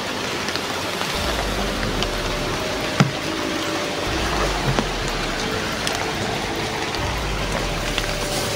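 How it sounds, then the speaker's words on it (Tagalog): Heavy rain pours steadily in a forest campsite area, a dense continuous hiss of drops hitting surfaces with no talk, a low rumble underneath and a few louder drips standing out. "Malakas pa yung ulan doon banda"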